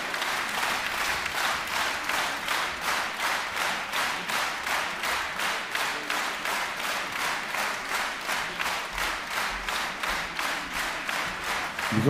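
A concert audience at a tribute evening with the Samara Philharmonic symphony orchestra breaks into sustained applause that settles into rhythmic clapping in unison, pulsing steadily with a full crowd sound throughout, with no talking.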